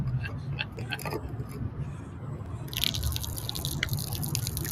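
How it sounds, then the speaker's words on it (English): Steel Reserve malt liquor is poured out onto the ground outside a stadium, a steady splashing trickle with dripping that grows louder and brighter partway through, heard over a low background rumble. "why is he pouring out the Steel Reserve?"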